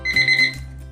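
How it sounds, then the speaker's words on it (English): A kitchen timer alarm rings while tea bags steep for homemade iced tea, giving loud, bright electronic beeping in a short burst that pauses and then starts again. "After 8 minutes you will hear your alarm."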